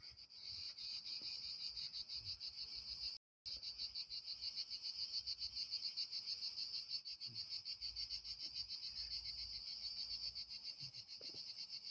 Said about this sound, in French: On entend même les cigales, magnifique.